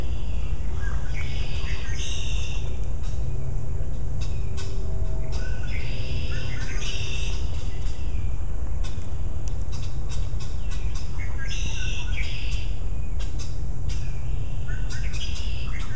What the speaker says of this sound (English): standing still and listening to the birdsong.